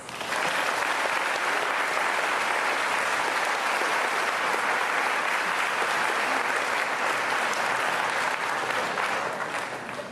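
Sustained audience applause for student award winners at a school salute to veterans ceremony, steady dense clapping from a large crowd that fills the whole stretch and tapers slightly at the end.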